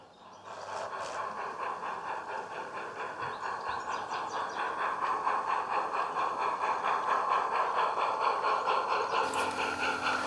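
A miniature railway train on the Peckforton Light Railway chugs steadily and grows gradually louder as it climbs a gradient, with a continuous rumbling rhythm and no voices.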